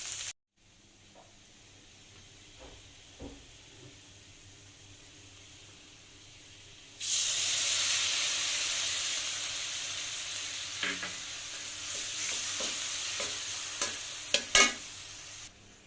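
Spice paste frying in a pan with onion and garlic: near-silent at first with a few soft stirring scrapes, then a loud steady sizzle rises about halfway through, with scattered spatula knocks and scrapes over it.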